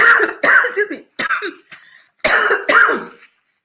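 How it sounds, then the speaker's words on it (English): A person coughs repeatedly up close, a string of harsh, throaty bursts with short pauses between them. "Why am I coughing?"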